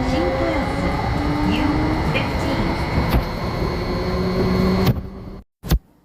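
A Tokyo commuter train rolls along with a steady rumble and hum inside the carriage, overlaid by brief mechanical whines and clicks before the noise drops suddenly near the end, followed by a single sharp thump.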